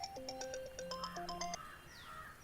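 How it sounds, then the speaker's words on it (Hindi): Mobile phone ringtone for an incoming call: a bright electronic melody of repeated beeping tones that plays for about a second and a half, then stops, leaving faint room noise. "किसी का तो फोन आ रहा है। रिसीव कर ले यार।"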